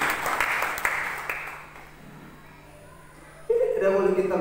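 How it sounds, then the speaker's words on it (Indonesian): A church congregation claps during an Indonesian Christmas sermon, moderately loud at first and quickly fading to quiet, before a preacher's voice resumes. "Beri tepuk tangan kepada Tuhan."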